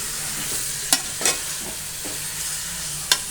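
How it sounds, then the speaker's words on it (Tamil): Mutton frying in sesame oil and being stirred in a pan: a steady close sizzle runs throughout, broken by a few sharp clinks and scrapes of the spoon, with no talking. "நல்ல எண்ணெயிலே வதங்கணும்."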